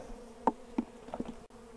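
A drone-laying honeybee colony being broken up buzzes softly, with a steady low hum and a few louder bees passing close by in short swells.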